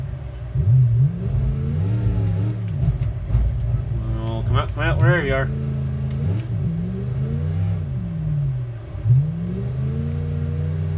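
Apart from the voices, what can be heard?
truck engine revving in a video game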